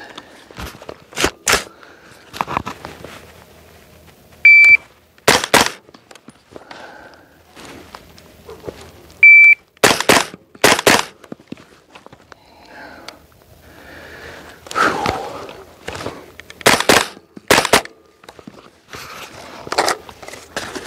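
A 300 Blackout AR15 with a 9-inch barrel, suppressed, firing subsonic rounds: sharp muffled shots in small bursts and single reports at irregular intervals, with quieter handling clatter between them.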